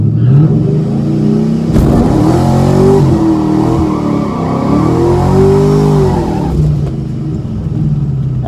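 A supercharged 500 HP New Edge Mustang accelerates hard on a drag run, its loud, close engine climbing in pitch through the gears with a quick dip at each shift.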